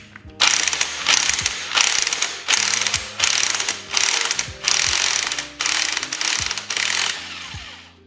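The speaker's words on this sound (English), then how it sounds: "once I put my impact on here, I'm not gonna have much room" Impact wrench with a deep socket working on a motorcycle transmission, firing in about seven loud hammering bursts separated by short pauses, close and alone with no talk.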